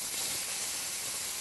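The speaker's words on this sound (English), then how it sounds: "That's the perfect sizzle" Scallops sizzle in a smoking-hot pan of vegetable oil, a steady, close, bright hiss that holds evenly throughout without talk.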